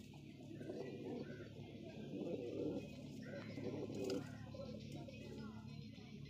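Pigeons cooing softly nearby in a bird-filled setting, low repeated throaty coos over a faint background murmur of children's voices.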